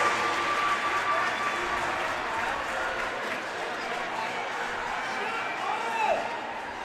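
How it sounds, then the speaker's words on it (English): A hockey crowd on its feet at a boys' high school game, a sustained wash of applause and cheering that stays fairly even and a little distant, with a commentator talking over it. "the crowd's on its feet"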